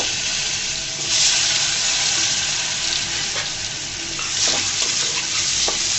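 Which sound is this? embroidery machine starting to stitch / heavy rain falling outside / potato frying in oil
potato frying in oil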